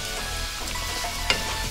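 Spring onions and fried shallots drop into a pan of squid cooked in black sauce, setting off a steady close sizzle with a brief louder crackle near the end.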